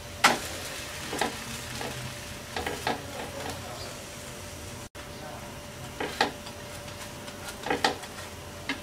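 Raw potato snack frying in a pan just after being flipped, a soft steady sizzle broken by scattered clicks and scrapes of a utensil, close and moderately quiet.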